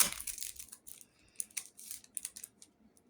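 A pack of football trading cards is torn and crinkled open, with sharp crisp rips and rustles close up in an otherwise quiet room.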